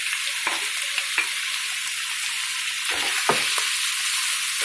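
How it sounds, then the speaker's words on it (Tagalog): Meat sautéing in a hot pan for an Ilocano dish, a steady close hiss of frying with occasional scraping stirs, no voices. "Igisa lang po ito hanggang mag-brown yung ating karne."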